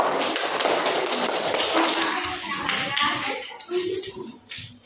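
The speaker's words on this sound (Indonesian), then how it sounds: "Ya, tepuk tangan untuk kelompok 3." A classroom applauding a student group during a teacher-training lesson, a burst of fairly close clapping that thins out and trails off into scattered claps, taps and knocks, with children's voices murmuring underneath.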